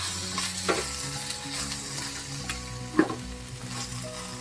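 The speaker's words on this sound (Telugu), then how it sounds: "అలాగే వెల్లుల్లిపాయ పేస్ట్ కూడా కొంచెం వేసుకొని బాగా కలుపుకోవాలి." Ginger garlic paste is stirred in a frying pan for a baby corn and capsicum gravy, a soft sizzle with occasional scraping taps over a low tonal background.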